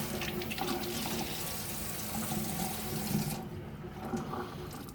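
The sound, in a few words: water wrung out of a wet sponge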